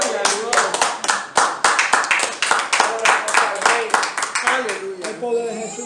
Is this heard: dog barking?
no